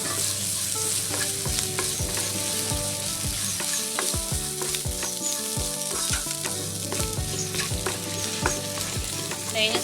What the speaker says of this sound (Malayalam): തേങ്ങ ചേർത്ത് നന്നായിട്ടൊന്ന് വഴറ്റി കൊടുക്കാം നമുക്ക്.